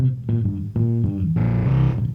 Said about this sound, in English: notice how it's just the warbleness without that sub.